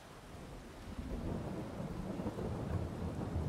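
Rain and rumbling thunder in the Farming Simulator 22 game while sowing rapeseed, a steady hiss of rainfall over a low, rolling thunder rumble that swells after the first second, fairly quiet and with no talking.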